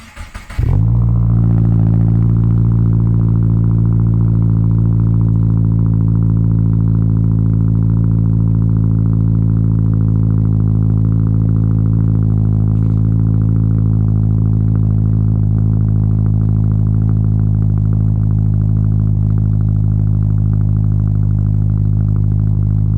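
A 2023 Subaru WRX with an AFD titanium F1 exhaust fires up from a cold start, a loud burst on ignition that settles into a steady, deep, droning high idle lasting over twenty seconds.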